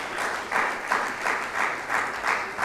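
An audience applauds steadily, with rhythmic clapping swelling in regular pulses roughly every half second, like a crowd clapping along in time; no one talks.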